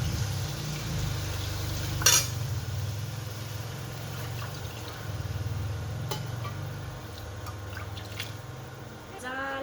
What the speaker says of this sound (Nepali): अब चाहिँ हामी यसमा पानी एड गर्छौँ।